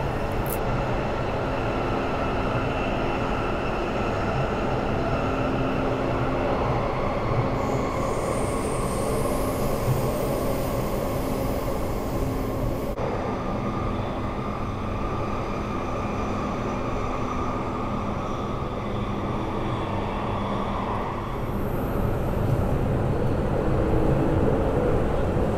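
Airport line train running through a tunnel beneath the Swan River, a steady loud rumble of wheels and motors with rising squeals and whines, continuous from start to finish with no voices.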